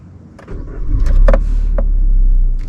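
An automatic 2025 Maruti Suzuki Brezza starts up from inside the cabin: a few clicks and a short whirring burst, then the engine catches and settles into a loud, steady low hum with a later click.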